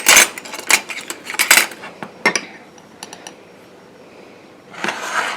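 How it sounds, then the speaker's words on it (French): A spoon mixes white clay into a paste in a bowl, giving a series of close, sharp clinks and scrapes in uneven bursts with brief quiet gaps and a longer scraping stretch at the end. "nous allons mélanger jusqu'à obtenir une pâte homogène"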